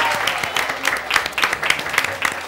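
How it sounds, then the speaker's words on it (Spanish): Studio audience applause on a television variety show, a moderate patter of hands clapping with irregular louder claps standing out, fairly close and without talk. "aplaudan, por favor, aplaudan"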